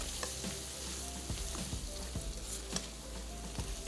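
Spiced goat meat being stirred in a sizzling pan, a steady frying hiss broken by repeated scraping and clinking strokes of the spoon at an uneven rhythm, close and fairly loud.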